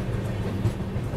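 The Kashi Vishwanath Express rumbles steadily as it pulls into platform 1 at Shahjahanpur Junction in the evening, a dense low rolling train noise with no voices.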